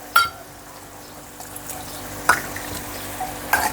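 Water is poured into a pan of spice masala with turmeric, salt and Kashmiri chilli powder, giving brief soft splashes and stirring scrapes, fairly near and quiet, with no talking.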